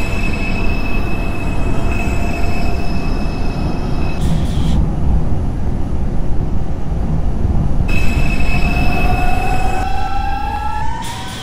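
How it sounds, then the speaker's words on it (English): An R142 subway train on a Manhattan-bound 4 express run in OpenBVE rumbles loudly and steadily, with a sustained tonal whine and rising squeals from the wheels. "This is a Manhattan-bound 4 express train."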